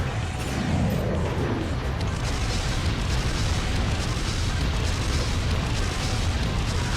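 A video game explosion from a destroyed target in Armored Core, a steady, loud, rumbling boom that stays dense and continuous throughout, with no clear separate blasts and no speech.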